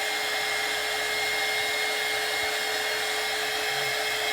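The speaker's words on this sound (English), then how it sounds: "I'm gonna heat her a bit to try to get this really dry before I put anything else on her." A heat tool blows steadily and close by while drying paint on an artwork, giving a constant whirring hiss with a faint high whine that lasts throughout.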